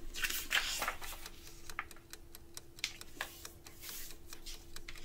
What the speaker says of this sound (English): Let's fold the paper in half.